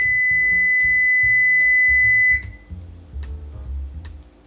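A home oven sounds a long, steady electronic beep once it has finished preheating for baking bagels. The clear tone holds for about two seconds and then cuts off, leaving a low background hum and faint clatter.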